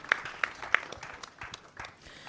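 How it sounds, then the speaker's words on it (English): Scattered audience claps at a fireside conversation event, with a few sharp, close claps early and then a looser patter of clapping that thins out, no talking. "So let's clap for the entire team."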